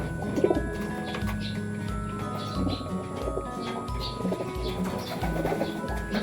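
Racing pigeons coo repeatedly in a loft before a toss, with soft, low, rhythmic coos close by. They overlap continuously, and a voice talks in the background.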